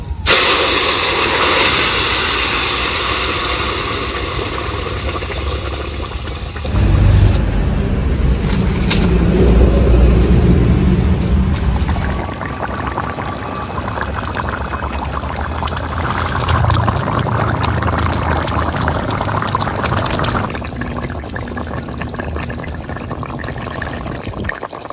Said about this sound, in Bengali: ফোড়নের ওপর ঝোল ঢেলে দেবো